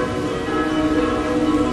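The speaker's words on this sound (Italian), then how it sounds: "Le campane." Church bells in Rome ring as a sustained tone with a rich stack of harmonics. They are fairly loud and continuous for a brief moment, with no talking over them.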